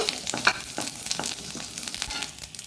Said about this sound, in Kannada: ಒಂದು ಹಿಂಗು ಹಾಕಿ, ಒಂದು ಬೆಳ್ಳುಳ್ಳಿ ಹಾಕಿ, ಎರಡರಲ್ಲಿ ಒಂದು ಸ್ವಲ್ಪ ಹಿಂಗು ಹಾಕಿದ ಮೇಲೆ ಇದನ್ನು ಸ್ವಲ್ಪ ಸಾಟೆ ಮಾಡಿಕೊಳ್ಳೋಣ